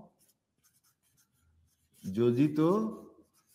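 A teacher writes on a board during a maths class, the faint scratchy strokes coming in short bursts before a voice speaks briefly over them.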